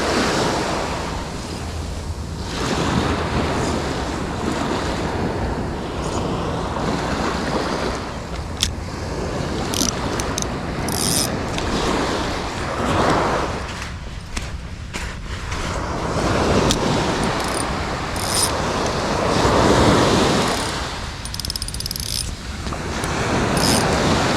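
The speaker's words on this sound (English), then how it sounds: "I feel a little bit of breeze coming up now" Waves wash continuously onto a Jamaican shoreline while a sea breeze buffets the microphone, a dense, steady roar of surf swelling and easing over the whole stretch, with no one speaking.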